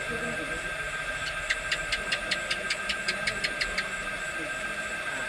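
A ceiling fan gives a steady low whir with a rapid, regular series of faint scraping clicks partway through, like a blade grinding as it turns.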